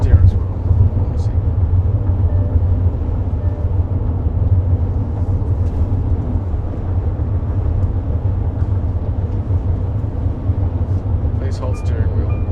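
A Farizon Supervan electric van drives along a road, its steady low rumble of tyre and road noise filling the cabin, with light clicks near the end.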